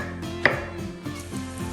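A knife chops courgette into large cubes on a board, with several sharp, close cuts at an uneven pace.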